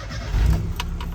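A 1275cc Mini Cooper engine turning over and catching: a brief low rumble of cranking swelling into a deeper burst, then a few sharp mechanical ticks, close and fairly loud, with no voices.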